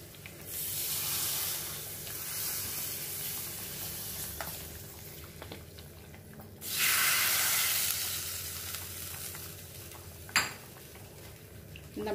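Fried chili powder tempering being poured into a Kottayam-style fish head curry, giving a steady sizzle that swells into a loud burst of hissing midway, with utensil clinks and a sharp knock near the end.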